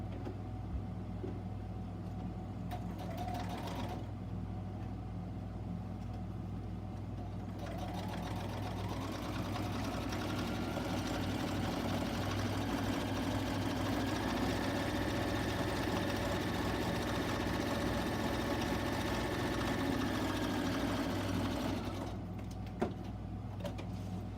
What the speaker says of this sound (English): So I'm going to open it up and just run it through here and give it a little top stitch.